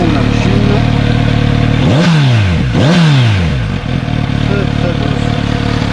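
Kawasaki Z900RS motorcycle engine revved hard twice in quick succession, each blip rising and falling sharply over a steady loud idle, close up and alone.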